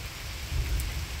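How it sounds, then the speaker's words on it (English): Distant thunder rumbling low under steady, wind-driven rain during a strong thunderstorm with frequent lightning, a soft swell of rumble mid-way through constant rainfall hiss. "You can hear some of that thunder in the distance."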